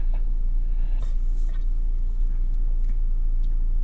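A 2023 Kia Sportage X-Pro SUV rolling down a short, steep hill on an off-road test course, a low, steady engine and road rumble at moderate distance with a few faint knocks and no talking.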